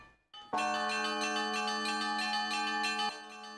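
Church bells of the Holy Trinity church tower in the town of Mirny ring out loud and close, a bright sustained peal struck just after a brief quiet start and ringing on before easing back near the end.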